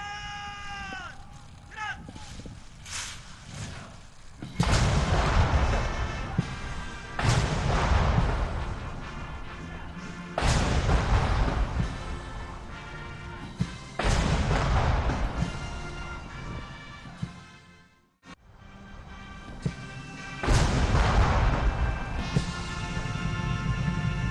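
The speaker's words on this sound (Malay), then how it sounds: "21 das tembakan meriam dilepaskan dengan diiringi lagu kebangsaan" A 21-gun cannon salute at a royal ceremony: heavy booms repeat at intervals of several seconds, each followed by a long rumbling decay, with the national anthem and voices sounding underneath.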